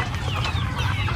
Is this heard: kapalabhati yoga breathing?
no